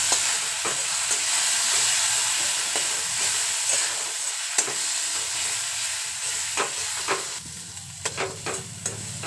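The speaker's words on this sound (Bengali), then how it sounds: "এবার মশলাটা খুব ভালো করে কষিয়ে নেব।" Ground spices with a little water sizzle and fry in a pan for a Bhola fish curry, a steady close hiss broken by occasional scrapes of stirring, without speech.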